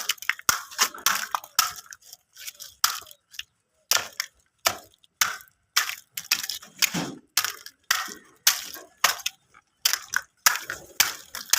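Eggshells for pigeon feed are crushed by hand in a run of sharp, dry crackling crunches, repeated in quick bursts with brief pauses, close and fairly loud.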